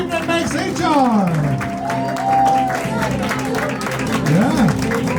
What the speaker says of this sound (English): Unless you want to get paid, you better keep clapping